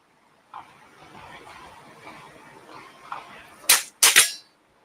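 Two sharp, loud gunshots in quick succession at a single action shooting match, following a stretch of faint outdoor background noise.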